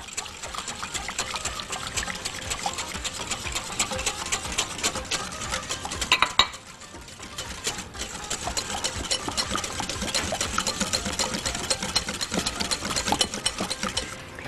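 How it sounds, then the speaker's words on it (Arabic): Chocolate cake batter of sugar and oil being beaten with an electric mixer, a steady close whirring drone that pauses briefly midway before resuming. "هكمل خفق"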